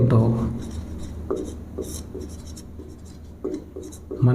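Chalk scratching and tapping on a classroom board in short strokes, close by, with a teacher's voice talking over part of it.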